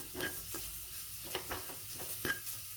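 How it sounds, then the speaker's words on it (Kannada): Green peas fry in a pan with green chilli and ginger, giving a steady soft sizzle broken by a few scraping stirs of a spoon, close and even throughout. "ಈ ಥರ ಇದನ್ನು ಫ್ರೈ ಆಗ್ತಾ ಇರಬೇಕು"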